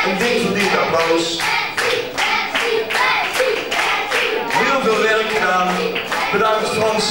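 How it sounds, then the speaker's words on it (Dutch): Loud, sustained audience applause at a 1992 school leavers' musical, dense rhythmic hand clapping continuing steadily throughout. "Een dik verdiend applaus."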